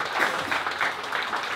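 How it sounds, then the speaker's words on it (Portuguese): Brief, dense applause from a Mozambican audience greeting Eduardo Kivo, many hands clapping together in a steady, close burst with no talking. "Uma força de palmas para o Eduardo Kivo"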